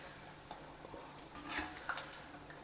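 Ulundu vadai batter sizzling and frying in very hot oil, a steady soft crackle with a few louder pops and spits, close by and alone.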